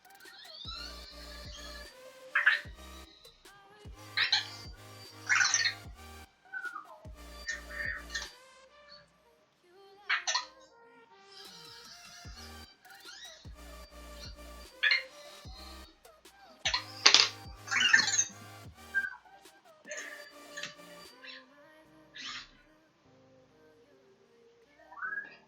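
A pet bird makes a string of soft coos and little chirpy, whistle-like calls in short separated bursts against a quiet room, with no talking.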